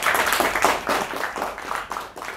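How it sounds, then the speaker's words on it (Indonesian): An audience at an Indonesian talk show on disaster mitigation in schools claps hands in loose, uneven bursts. The applause is fairly close and lasts a couple of seconds. "kita tepuk tangan dulu untuk kita semua"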